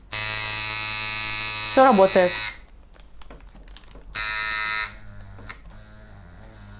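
Idle tattoo machine buzzing steadily when the foot pedal is pressed, a loud electric hum that cuts off, then a second short burst; a voice speaks briefly between the runs.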